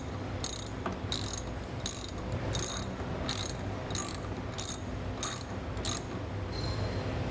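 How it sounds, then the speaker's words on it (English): A 7mm socket ratchet tightening small nuts onto a back-up alarm, about nine short crisp ratcheting bursts at a steady, even pace, close to the microphone and alone. "I'm gonna be using a 7mm to tighten this up"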